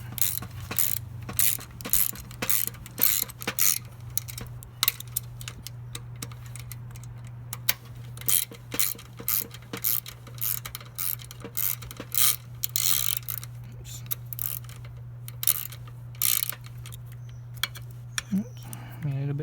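A ratchet clicks in quick, even bursts of ticks while tightening a 4mm Allen bolt and a 10mm nut on a Yamaha XSR900 fender assembly, close and fairly quiet over a steady low hum, running continuously with brief pauses.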